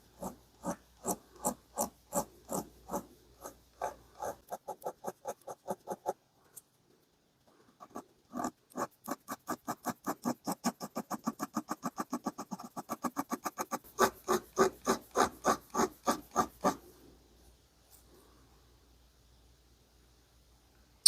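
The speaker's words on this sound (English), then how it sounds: "slowly, carefully take material off with the file and then blend it back in with the sandpaper." Hand file rasping across a vintage Keen Kutter pocket knife, a regular rhythm of quick scraping strokes in close-up runs with a brief pause midway.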